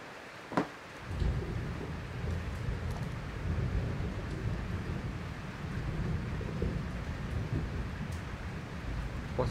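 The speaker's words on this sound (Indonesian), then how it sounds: "Ada petir juga." Thunderstorm outdoors with a deep rolling rumble of thunder building after a sharp crack, over steady heavy rain hiss that continues throughout.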